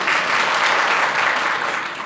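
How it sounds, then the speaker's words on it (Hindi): Steady, dense clapping from a crowd at a Brahmin community gathering, welcoming honored guests; the applause fills the whole moment evenly with no voices over it. "तो मैं वाणी रूपी पुष्पों से और कर ताड़न करके, ताली बजा करके उनका अभिनंदन करते हैं।"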